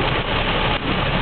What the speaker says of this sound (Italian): è da stamani che piove in questa maniera